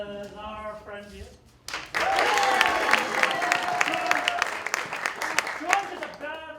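Theatre audience at an improv festive wake bursts into loud, dense applause after a brief spoken announcement, clapping holding strong for several seconds with some cheering and a voice returning at the end.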